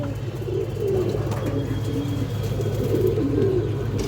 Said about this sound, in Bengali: এই যে মাদি কবুতরটা দেখেন, আমি একটু ধরে দেখা দিচ্ছি আপনাদের